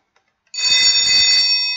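After a brief quiet, a loud alarm clock bell rings, a harsh, rapid metallic clatter that carries on without a break.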